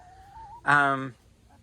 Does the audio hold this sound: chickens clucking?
yes